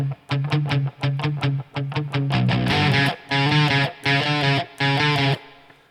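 Electric guitar tuned to drop B plays the intro riff of a song, choppy palm-muted chugs with short gaps that give way to sustained distorted chords, close and loud with no talking.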